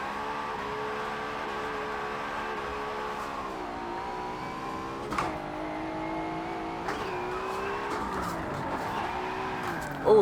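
A Nissan R32 Skyline drifts in Forza Motorsport 7. Its engine drones steadily with rising and falling revs while tyres squeal and skid in bursts throughout.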